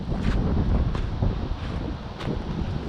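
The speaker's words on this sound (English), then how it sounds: "It is windy down here." Wind gusting at an old sawmill site with brick ruins, heavy rumbling buffeting across the microphone in uneven surges, no voices.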